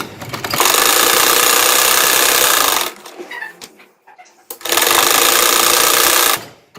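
An electric sewing machine runs in two long, steady, loud bursts of fast whirring stitches while hemming the cuff of salwar trousers, with a quiet pause between where the needle is repositioned.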